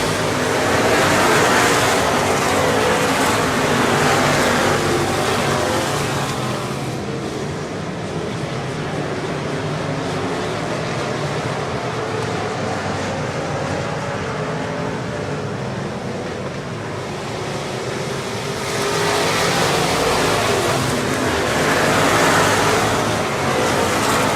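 Race cars lapping the track at Cotton Bowl Speedway during a race: a loud, wide engine roar swells as the pack sweeps close by at the start and again near the end, easing to a steadier distant rumble in between, with no talking.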